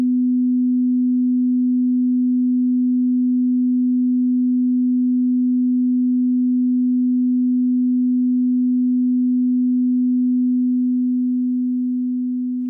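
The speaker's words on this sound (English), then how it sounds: "Okay, 250 hertz. We get a warm ooh sound, a rich, resonant glow." Pure 250 hertz sine wave test tone, one steady unbroken pitch held loud and clean for about twelve seconds, fading slightly at the very end, with nothing else heard.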